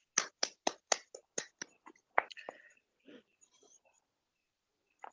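A short burst of applause from a small student group at the close of a biology class discussion, about eight sharp, evenly spaced claps followed by a few scattered softer ones and faint murmuring.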